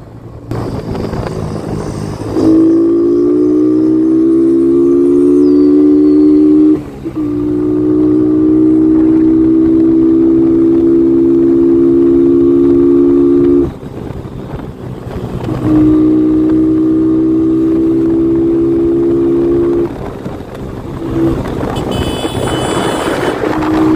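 A Kawasaki Barako 3 FI motorcycle engine drones loudly while riding on the road and overtaking, its tone holding steady and then dropping at each gear shift, with wind noise and no talk.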